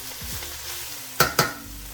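Lion's mane mushroom fries in a little oil in a pan, giving a steady soft sizzle with two sharp clacks close together near the end.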